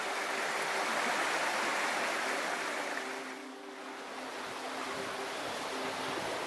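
A brook near Hay-on-Wye flows into the River Wye, giving a continuous close rush of running water that dips briefly midway and then resumes at full strength.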